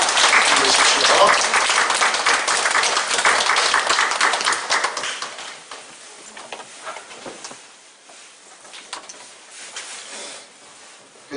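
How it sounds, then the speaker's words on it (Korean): Church congregation clapping together in a show of comfort and blessing, a dense burst of applause that is loud at first, then gradually thins into scattered claps and fades. "우리 위로하며 또 축복하며 힘내시라고 우리 위로의 박수 한번 드립니다"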